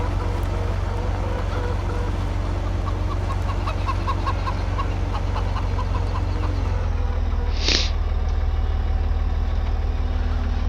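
A rooster in the video game Farming Simulator 17 gives a run of short, clucking calls and then one louder, sharp cry, all over a constant low engine drone from farm machinery.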